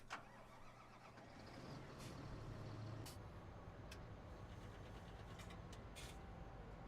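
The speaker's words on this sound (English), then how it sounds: "We'll hop in the tractor and start her up." A Fendt tractor engine in a video game cranks and turns over, then settles into a steady low rumbling idle, fairly quiet throughout.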